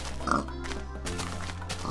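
Pigs oinking in Minecraft, a few short grunts close by over a steady in-game ambient background with no talking.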